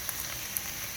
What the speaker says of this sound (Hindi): तेल में फ्राई करेंगे।